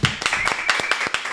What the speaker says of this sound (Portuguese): recebam com forte aplauso